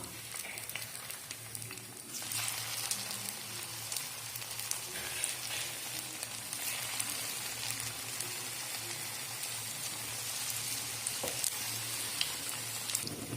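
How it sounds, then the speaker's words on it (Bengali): Spring rolls deep-fry in hot oil with a steady crackling sizzle that swells after a couple of seconds and then keeps bubbling close by, with no talking. "একটা একটা করে স্প্রিং রোল আমি এবার ভেজে নেব"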